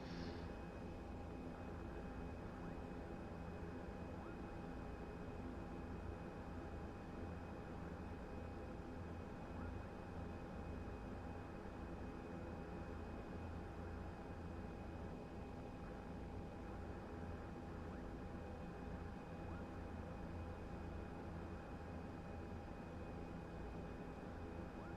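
An ATR 72-600 airliner taxiing toward the runway holding point at Dublin, a steady low engine and propeller drone with a constant tonal hum, continuous and unchanging without speech.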